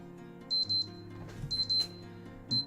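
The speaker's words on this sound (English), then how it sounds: "that is the timer" A stream timer alarm beeps in short high-pitched double bursts, three clusters about a second apart, over quiet background music.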